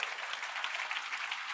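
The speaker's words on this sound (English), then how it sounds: "Shall we give Rayne a big round of applause?" A steady round of applause from an audience at a business talk in Singapore, dense even clapping close and fairly loud, with no voices over it.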